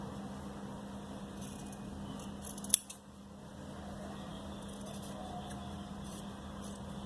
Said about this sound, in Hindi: थोड़ा थोड़ा सा छोड़ें और इसको काट दें, एक्स्ट्रा कपड़े को।